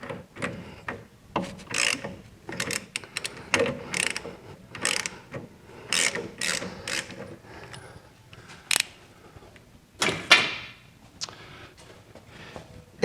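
Metallic ratcheting and clicking from a wrench as the brake light switches come out of a 1973 VW Super Beetle's master cylinder, in irregular close bursts of clicks and clanks with brief pauses between.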